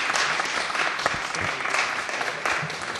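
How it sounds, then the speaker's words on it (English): Sustained applause from an audience in a debate chamber during a fracking debate, steady clapping filling the room with a few louder claps standing out. "everybody deserves applause in this bit"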